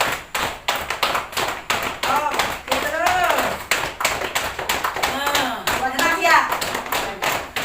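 Hands rhythmically patting and slapping thighs during a group exercise session, a quick run of sharp close taps with an instructor and participants talking and calling out over the patting.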